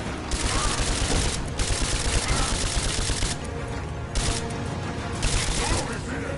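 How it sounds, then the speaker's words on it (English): Enemy gunfire in Rise of the Tomb Raider rattles in several dense bursts separated by short pauses, loud and close, with a voice speaking over part of it. "Where are they shooting at?"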